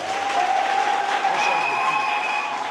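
A church congregation applauding and acclaiming during a worship service, dense, continuous clapping filling the hall with a sustained voice or tone riding above it.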